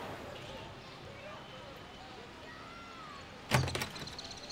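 A door in a home is knocked on and opened. After a stretch of quiet room tone there is a sudden close thud, then a short clattering rattle as it swings.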